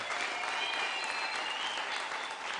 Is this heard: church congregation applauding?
yes